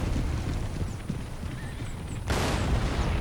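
Horses in an Empire: Total War battle, with hoofbeats clip-clopping and a whinny amid steady game noise and distant gunfire; a loud burst swells near the end.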